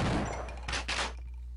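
A gun in Half-Life: Opposing Force fires twice in quick succession, two broad, close, punchy blasts that ring out briefly before fading, with no talking.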